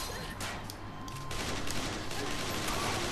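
Gunfire from the video game Mindjack, a dense continuous burst of shots filling the clip at steady loudness, with a voice briefly audible underneath.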